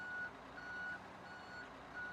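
Repeated electronic reversing beeps from a truck backing in within a European trucking video game, steady evenly spaced tones over a low engine hum, fairly quiet.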